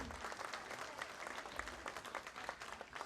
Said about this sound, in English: Can we give a big round of applause to Auntie Chiling?